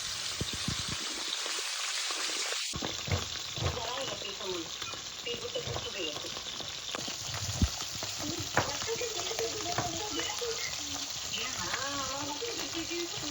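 Eggplant frying in oil in a pan hisses and crackles steadily at close range, with scattered stirring clatter and voices talking over it.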